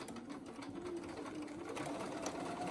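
A sewing machine runs steadily, stitching down the pleats of a fabric face mask in one continuous, even buzz that holds close and moderately loud throughout, with no talking.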